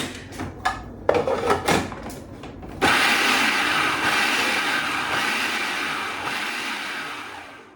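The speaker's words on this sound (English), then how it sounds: "Now I'm going to pulse it about 3 or 4 times." Black bean sauce being pulsed in a blender, a few short bursts of whirring and chopping, then one sustained loud blend running to the end.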